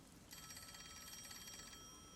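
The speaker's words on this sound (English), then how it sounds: "Oh, the phone. It's a call from the WDO." A telephone ringing in the video game Rain Code, a faint electronic bell trill that starts suddenly and pulses rapidly over a quiet background.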